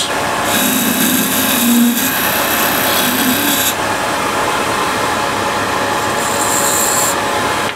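A skew chisel cutting on a spinning wood lathe, giving a close, steady rasping scrape with bursts of higher whine as the blade bites, continuous throughout and without talk.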